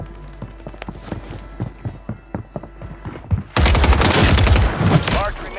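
STG 44 rifle fire in Call of Duty: light, quick thumping steps give way to a loud, sustained automatic burst that fills the second half.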